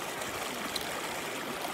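River water flows in Mariveles, Bataan, Philippines, a steady, faint, broad rushing wash that continues evenly throughout, with no voices.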